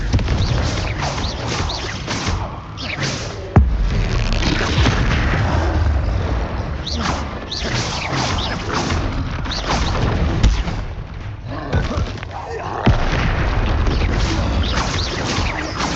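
Repeated Confringo blasting curse explosions in Hogwarts Legacy amid combat, a loud, dense stretch of booms, crashes and sharp impacts, with sudden hits standing out around the fourth and thirteenth seconds.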